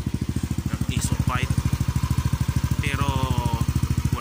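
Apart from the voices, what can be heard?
Yamaha Aerox 155 scooter engine with Exos X-6 exhaust pipe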